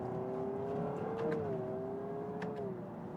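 Engine of a 2026 Honda Prelude revving through a simulated downshift, a steady rising and falling tone heard alone at moderate volume, with a couple of brief blips.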